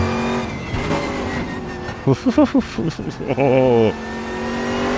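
A Koenigsegg CCGT race car in a sim racing game, its engine droning steadily, then revving in a quick series of sharp blips and a rising surge, with a brief exclamation.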